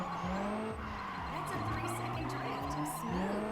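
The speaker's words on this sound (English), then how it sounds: "That's a 3-second drift" Car drifting in the racing game Juiced 2, with a steady engine whine and long squealing tire skids that rise and fall over several seconds, continuous and close.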